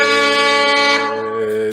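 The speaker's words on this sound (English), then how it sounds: "I'm gonna wait for the air horn" A loud, sustained air horn blares with a steady harmonic tone for nearly two seconds, then cuts off.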